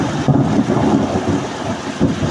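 A May thunderstorm with rain, loud low rolling thunder rumbling close and continuously over the steady hiss of falling rain.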